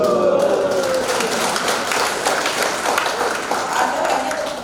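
Audience applauding at a town hall meeting, dense clapping from many hands that stays loud and steady throughout, with some voices mixed in.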